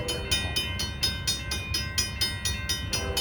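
An Amtrak passenger train with P40-type locomotives in Springfield, Illinois, running close by as a steady rolling rumble and a loud, regular clickety-clack of wheels over rail joints, with no talk.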